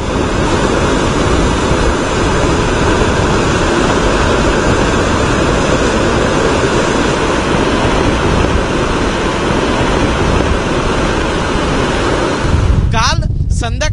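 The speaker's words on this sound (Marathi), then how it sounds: "हे 7 गेट जेव्हा ओपन होतात तेव्हा हे सगळं पाणी भोगावती नदीच्या दिशेने जात असतं" Water roars through an open gate of Radhanagari dam toward the Bhogavati river, a loud, steady, unbroken rush with wind buffeting the microphone near the end.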